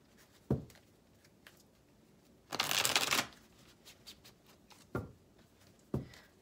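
Tarot cards being shuffled close up: a few sharp flicks and taps, then a longer riffle burst in the middle, followed by more isolated snaps, no talking.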